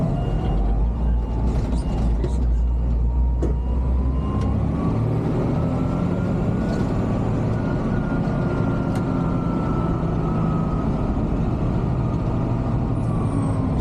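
A garbage truck drives along a Brimfield Township route, its heavy engine a loud, steady rumble throughout with occasional brief clanks and hisses.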